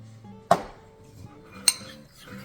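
Two sharp utensil clinks against a bowl, about a second apart, as lupin flour is whisked to break up lumps in a kitchen; no talk.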